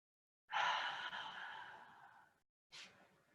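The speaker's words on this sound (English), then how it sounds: "take a big inhale here, and exhale" A long, audible exhale during a yoga flow, a single steady breath out that tapers off over about two seconds, followed by a brief sharp intake of breath; close and alone, without talk.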